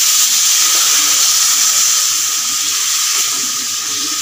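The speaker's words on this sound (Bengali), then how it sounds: "এখন একটু জল দিয়ে দেব" Water pours into a frying pan of curry made with taro stolons and spiny eel, giving a steady, loud hiss and sizzle throughout.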